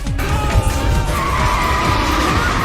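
A film-effect car crash and skid: a heavy impact, then a loud, sustained tire screech with rumbling engine noise beneath, close and alone for a couple of seconds.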